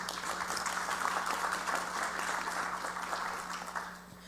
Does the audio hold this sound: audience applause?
yes